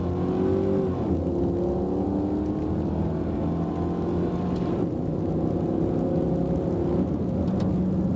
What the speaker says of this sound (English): Now make some 3/4 throttle shifts.